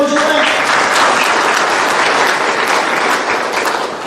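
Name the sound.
audience applause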